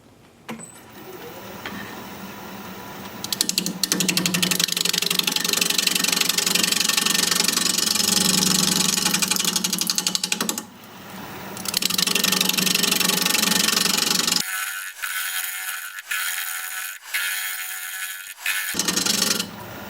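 A wood lathe spins a cracked wood blank with a steady mechanical whine and hum. Louder stretches of rough cutting noise alternate with quieter gaps, and the sound drops to a thinner hum near the end.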